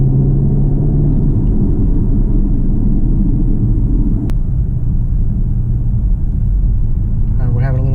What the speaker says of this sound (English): I'm in sport mode going over all these bumps in the road